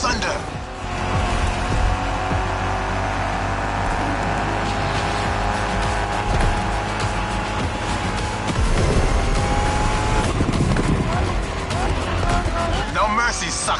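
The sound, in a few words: muscle car racing with tire squeal, video game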